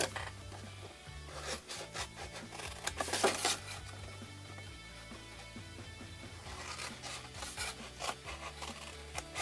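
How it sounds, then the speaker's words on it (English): Blade or knife rubbing and scraping along score lines on a paper box, short repeated rasping strokes close by, with a steady musical bed running underneath. "Then we're going to cut up all our score lines just to the first one."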